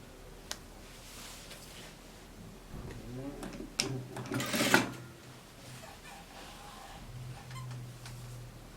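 A sewing machine stitches jacket fabric in short bursts of mechanical whirring and ticking, close by, with a brief louder rattle midway and someone speaking at times over it.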